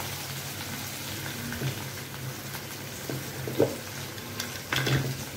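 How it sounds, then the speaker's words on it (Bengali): Potatoes fry in a pan with a soft, steady sizzle, while a spoon scrapes and stirs in a few irregular strokes and knocks that are louder near the end, and no one speaks. "এখন একটু ভাজা ভাজা করি"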